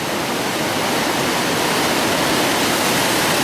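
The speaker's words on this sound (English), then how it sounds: "So it's quite a spateful river, as you can see today." Fast-flowing river in spate, a loud, dense, unbroken rush of water, steady throughout with no voices.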